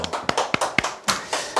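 A small group gives a short, sparse round of hand clapping, a few crisp claps spread unevenly over a moment and fairly close.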